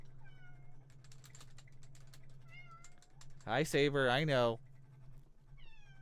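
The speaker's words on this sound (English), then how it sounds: "I don't know if you could hear him meowing at all." A pet cat named Saber meows loudly and close in one drawn-out, wavering call, amid soft keyboard clicks and a low hum, with a person briefly speaking to him.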